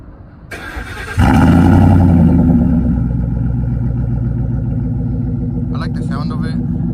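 A truck fitted with a Carven R Series exhaust and a K&N intake cranks briefly and then fires up into a loud, deep, steady idle rumble, close by, with a faint chime-like tone over the drone.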